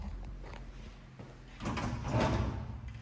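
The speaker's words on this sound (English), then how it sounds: "Little pantry drawer" A small pantry drawer in a kitchenette slides open or shut, a soft rumbling glide that swells midway and lasts a couple of seconds, close by and moderately quiet with no talking.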